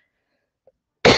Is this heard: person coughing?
yes